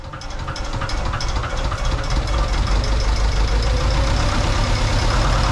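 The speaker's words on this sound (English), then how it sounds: "It wasn't odd that the engine was having difficulty firing up." A sailboat's inboard engine labours and knocks as it struggles to fire, a loud continuous rough rumble with uneven clattering that builds slightly in intensity throughout, with no voices.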